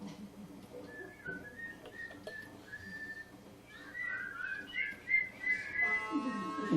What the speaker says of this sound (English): And you whistle. Whistle.